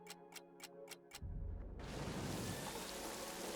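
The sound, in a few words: rain falling in a video game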